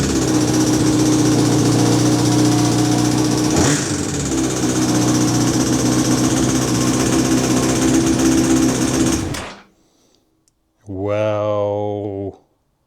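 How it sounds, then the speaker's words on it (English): Honda CBR1000RR sportbike engine with a noisy cam chain, idling close by with a rattling clatter for about nine seconds, then shutting off; after a brief silence comes a short revving burst. "So I am going to say it's going to be the cam chain."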